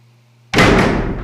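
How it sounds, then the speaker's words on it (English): A heavy metal hospital ward door slams shut after a moment of quiet, a single loud booming impact that rings out and decays slowly. "Then the doors thundered as they shut closed behind us."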